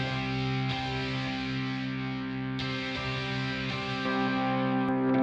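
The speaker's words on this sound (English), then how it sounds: "show you what too much OTT can do to electric guitar" Electric guitar crushed by an OTT compressor plugin at full mix, a sustained, buzzy, heavily squashed chord drone with a couple of brighter pick attacks, steady and loud with no voices.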